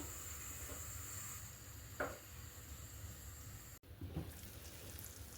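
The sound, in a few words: beef mince pizza sizzling in butter in covered pan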